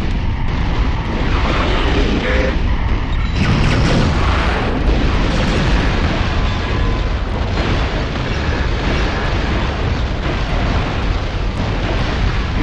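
Heavy combat noise from the video game Metal Arms, with loud, sustained bursts of gunfire and explosive booms forming a dense, continuous barrage throughout.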